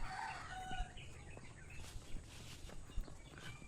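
A rooster crows once near a lakeside jogging path, a clear rising call early on, followed by faint footsteps and quiet outdoor ambience.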